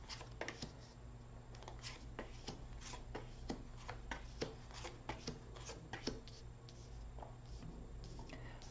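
Tarot cards being shuffled continuously, with a dense run of soft riffling snaps and rustles close by over a low steady hum, no talking.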